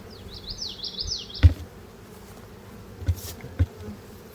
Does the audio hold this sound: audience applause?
no